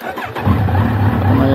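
A 2020 Kawasaki Z900 motorcycle engine cranks briefly, then catches and settles into a loud, steady idle close by, with no talking over it.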